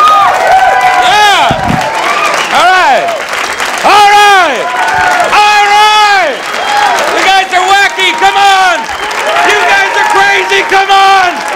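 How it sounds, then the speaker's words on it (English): A comedy club audience in New England breaks into loud, sustained applause and cheering for a stand-up comedian, with whoops and shouts rising over the clapping throughout. "Please, a nice round of applause"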